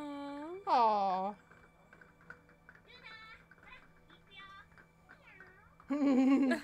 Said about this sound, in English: The meow.